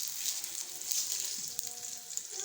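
Vegetable chapli kababs, made with no meat, fry in hot oil with a bright, steady hiss and fine crackle close by, running evenly throughout without any voices.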